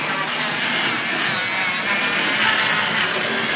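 Abrasive scouring pad on a model railway track-cleaning wagon (Hornby, Triang, Dapol) grinding along the rails, a steady close broadband hiss and scrape with no talk over it.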